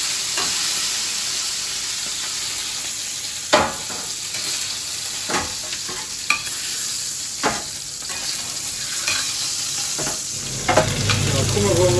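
Beef ribs fry in fat in a pan with a steady, close hiss and crackle, broken by several sharp clinks and scrapes of a utensil stirring, and the sizzle swells louder toward the end.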